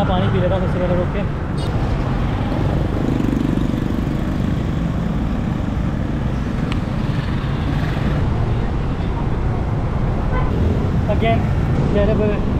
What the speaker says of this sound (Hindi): again terrible traffic